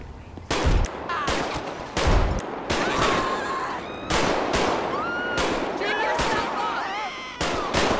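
Gunfire in GTA V during a police patrol, a series of loud, sharp shots spaced roughly a second apart, with voices talking between and over them.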